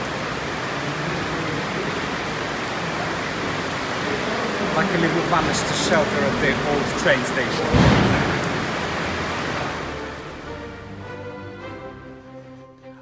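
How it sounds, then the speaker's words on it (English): Steady rain falling around Windsor, a continuous broadband hiss of drops on hard surfaces, heavy and close, with a person speaking over it midway before the downpour fades out. "Now it's raining."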